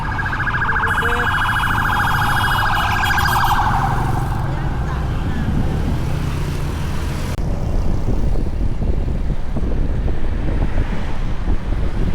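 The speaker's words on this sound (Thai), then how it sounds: "รถกู้ภัย" A rescue vehicle siren wails steadily in the distance under heavy wind buffeting the microphone, with a rumbling outdoor background, near Vientiane during the end of Buddhist Lent festivities.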